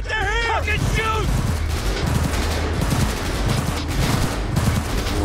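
Sustained automatic gunfire and bursts from the video game Cyberpunk 2077, loud and dense throughout, with a voice shouting over the start of the fight.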